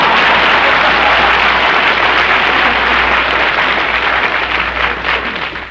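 Studio audience applause on a vintage comedy radio program, a dense, loud wash of clapping that holds steady for several seconds and then begins to taper off.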